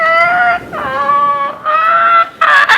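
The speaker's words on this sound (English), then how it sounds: "You hear those seagulls?" Seagulls calling out on a boat at sea, loud close wailing cries in three or four drawn-out bursts, one after another, with short gaps between them.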